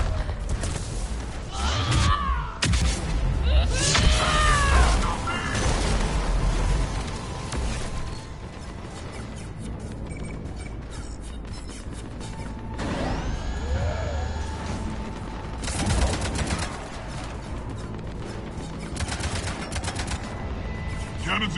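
Cannons firing and explosions in the Mass Effect video game, with dense loud bursts of gunfire, booms and mechanical whirs in a busy battle mix that fades to a lower rumble before more blasts.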